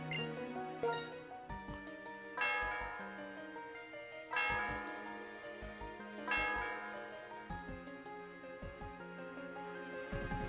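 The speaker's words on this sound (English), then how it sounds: "So let us ring the bell, first for Limbo." Bell chimes in the Pokémon Black 2 video game, three struck tones ringing out in turn with long sustained decays over background game music, no talking.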